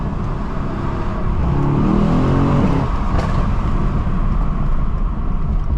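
A Mercedes-AMG E63S with a 600 hp engine downshifting on a night drive, its engine note rising and falling in a loud, continuous rev heard from inside the car, with no voices over it.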